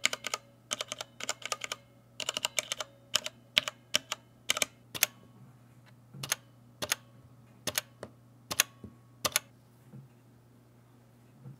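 Keys on a DaVinci Resolve Speed Editor controller are pressed near a microphone, giving crisp mechanical-keyboard-like clicks: quick bursts of taps at first, then single, evenly spaced presses in a quiet room.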